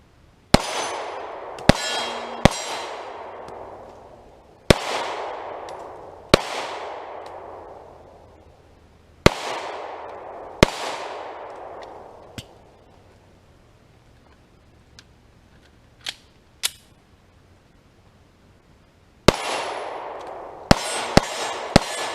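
S&W M&P Shield 9mm Performance Center pistol fired at a range, sharp loud reports spaced a second or more apart with ringing decays, some shots in quick pairs and a short run of quiet between.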